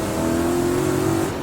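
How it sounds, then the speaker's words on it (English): A BMW E28 with a V8 engine, held against its rev limiter, gives a steady high drone with a bouncing pulse, loud and close, alone with no voices. "the engine might be built to have the rev limiter bouncing like that"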